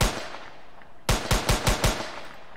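Rapid MP5 gunfire in an Unreal Engine 4 shooter game, a short burst of five or six loud, crisp shots in quick regular rhythm after a stretch of faint hiss and distant bangs.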